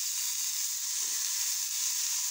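Chopped bitter gourd sautés in hot oil with a pinch of turmeric, giving a steady, even hiss of sizzling that runs without a break and without voices.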